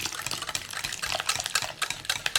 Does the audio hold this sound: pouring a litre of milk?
yes